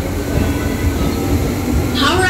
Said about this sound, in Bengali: ট্রেন এখন বাগনান ছেড়ে যাচ্ছে